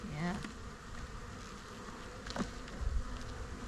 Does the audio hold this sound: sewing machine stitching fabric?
no